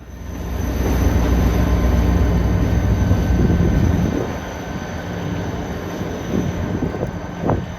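A Western Maryland train led eastbound by a former Amtrak F40PH diesel locomotive, rebuilt as an F40PH M-2, rumbles past loudly with a steady engine roar that eases off midway, then rail clatter follows.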